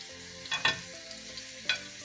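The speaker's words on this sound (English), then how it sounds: "We fry a little bit of olive oil. We add on some onions," Onions and carrots frying in olive oil for a ragù, a soft steady sizzle with a few sharper crackles and stirring scrapes, close and moderately quiet, no talking.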